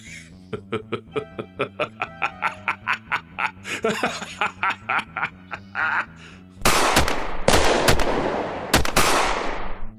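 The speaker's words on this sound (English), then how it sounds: "White strode forward through the flurry of gunfire, and the bullets pinged off his thick gray skin" A run of evenly spaced rhythmic pulses gives way to loud, rough bursts of gunfire, several blasts close together and near.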